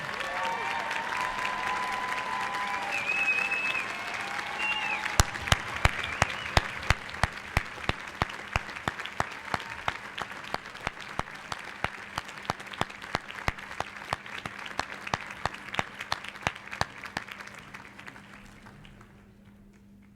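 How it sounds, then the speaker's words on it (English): A large commencement crowd at a law school graduation applauds parents for a long stretch. A dense wash of clapping swells, then thins into scattered loud individual claps before fading out. Faint voices sit underneath. "please stand and accept a round of applause for all they've done"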